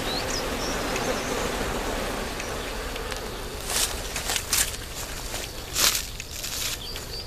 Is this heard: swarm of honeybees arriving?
yes